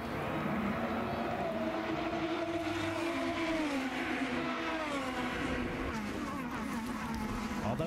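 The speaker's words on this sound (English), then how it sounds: "Let's listen, going through the gears up to 160 miles an hour to turn 1." IndyCar race car on a street circuit accelerating through the gears toward 160 mph, engine pitch climbing then dropping with each shift, a loud continuous whine over crowd and track noise.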